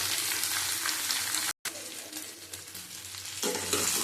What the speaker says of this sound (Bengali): দেখো, আলু আর কুমড়ো ভাজা হয়ে গেছে।